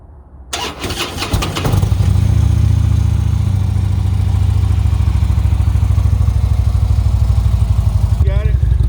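A Harley-Davidson Road King motorcycle engine cranks and catches, then settles into a loud, steady, lumpy idle close by for several seconds.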